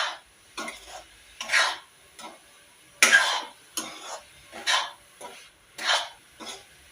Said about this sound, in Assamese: এয়া নাৰিকলখিনি লাৰিছোঁ এতিয়া।